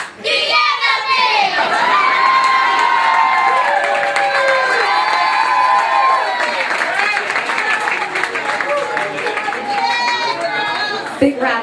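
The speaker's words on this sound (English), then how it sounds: "Big round of applause." Wedding guests at a reception cheer, whoop and clap together, a loud, dense crowd roar with high excited shouts, sustained throughout and close by.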